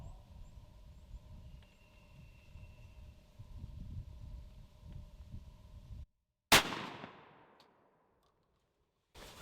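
A turkey hunting shotgun fires one sharp, loud blast outdoors during target patterning, with a decaying echo after a quiet, breezy lead-in.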